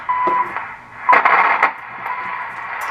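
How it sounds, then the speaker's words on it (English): Steady hiss of static from a Silvertone Model 4464 radio under alignment, loud and close, with a faint whistling tone and a few brief crackling surges. "Static, static, static."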